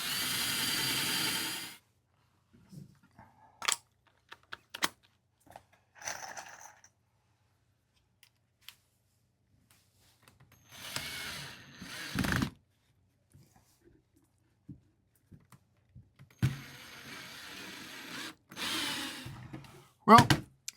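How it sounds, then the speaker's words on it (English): Several short bursts of a power drill whirring into scrap wood, drilling ventilation holes in a bluebird nesting box, separated by quiet gaps and small handling noises, with a couple of longer runs near the end. "I'll probably drill some ventilation holes up here as well."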